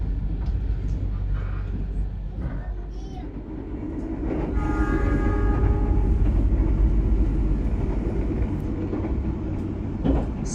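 Extra Imperial passenger train departing Yogyakarta for Jakarta, a steady low rumble of rolling carriages that swells and grows louder midway, with faint tonal squeals and brief voices in the background.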